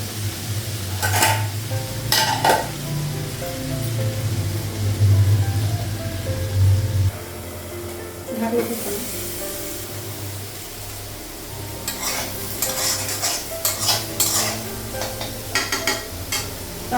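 Food sizzles in a pan while a utensil scrapes and clinks against it in irregular bursts, with a low hum fading out partway through.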